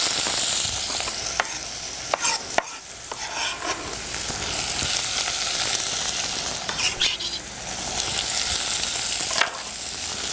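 Ingredients hit hot olive oil in a preheated saucepan, crackling in a bright continuous sizzle, with intermittent sharp clatters and scrapes from stirring, close up and without talk.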